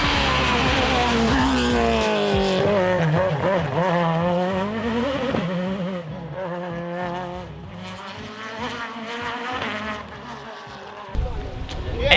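A Citroën C2 Max rally car at a Spring Blaze rally stage, its engine note climbing and falling through gear changes as it passes. It is loud and sustained, fading somewhat toward the end.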